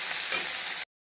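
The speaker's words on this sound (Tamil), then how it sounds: "எண்ணெயிலே வதக்கிடலாம்." Curry leaves, coriander leaves and coconut sautéing in oil for a tomato chutney, giving a loud, dense sizzle with stirring throughout before it stops abruptly.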